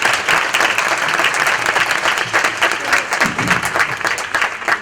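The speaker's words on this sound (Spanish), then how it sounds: "Un aplauso al director de la película." Applause from an audience at a lecture for a film's director, steady dense clapping filling the room throughout, with faint voices underneath.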